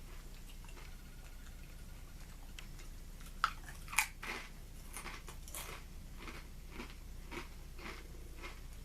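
Quiet, close crunching and chewing of Lay's Crunch Tators potato chips, with a couple of sharper crisp snaps standing out over a soft, steady background.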